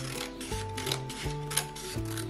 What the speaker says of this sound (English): I'm just gonna cut it.